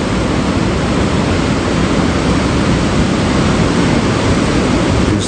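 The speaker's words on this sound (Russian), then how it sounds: "Какие здесь волны хорошие." Ocean surf breaking on the beach at Canggu, Bali, a loud, continuous broadband roar of waves close by, steady throughout with no voices.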